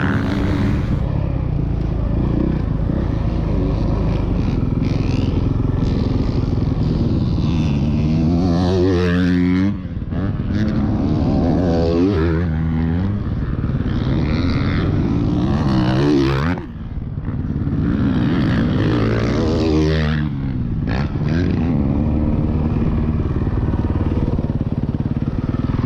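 A motorcycle lapping a race track roars loudly and close for the whole stretch, its engine note climbing and falling through repeated shifts and passes, with the pitch sweeping as it goes by and only brief dips between runs.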